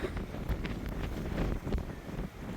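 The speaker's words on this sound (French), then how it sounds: "Vraiment ça souffle beaucoup" Strong coastal wind at Sagres, Portugal buffets the microphone with a continuous low roar and gusty rumbles, loud and close, with no voices.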